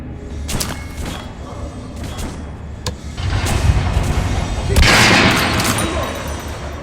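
Gunfire at a shooting range during practice in the video game Metro Last Light, with repeated shots and bursts layered in a dense, boomy mix that swells louder toward the end.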